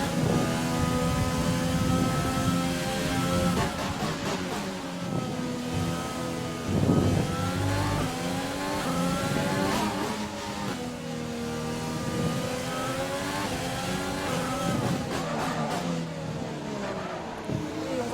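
Simulated Formula 1 car engine in the F1 2020 racing game, a loud continuous high-pitched whine rising and falling through gear changes as the car accelerates, steady throughout with no talking.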